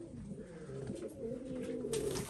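Syrian pigeons cooing close by, a run of soft, low, rolling coos repeating through the stretch with faint rustling, no voices.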